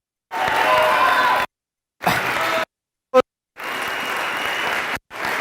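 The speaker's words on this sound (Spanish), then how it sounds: "Un fuerte aplauso para César." Audience applause at a mindset-training seminar comes in several choppy bursts of crowd clapping, each cut off abruptly by silent gaps, with one very short blip between them.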